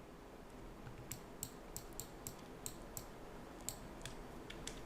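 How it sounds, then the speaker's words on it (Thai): Mouse clicks from work in 3ds Max, building ground terrain around a building model: a dozen or so sharp, light clicks at an irregular, unhurried pace over faint steady room noise, with no talking. "เราจะคลิกคลิกเฉยๆ แบบนี้ก็ได้นะฮะ ค่อยๆ คลิก"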